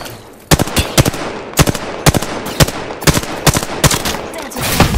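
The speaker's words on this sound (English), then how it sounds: "Taking fire." Rapid gunfire from the video game Apex Legends, loud close bursts of sharp shots in a fast, fairly regular rhythm that continue through the whole clip.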